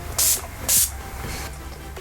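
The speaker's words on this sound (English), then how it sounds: "So just shake it up and spray." Two short bursts of makeup setting spray hiss, close and loud, separated by a brief pause, with a fainter third puff after.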